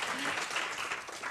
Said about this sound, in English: Let me ask you to applaud speakers.